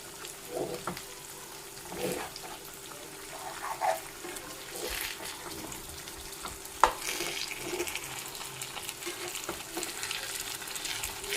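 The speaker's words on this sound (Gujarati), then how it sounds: "શાક છે સરસ રીતે પાકી રહ્યું છે" A pan of stuffed bitter gourd and onion curry sizzles and crackles steadily as it cooks, with occasional stirring clatter and a sharp clink partway through; no voices.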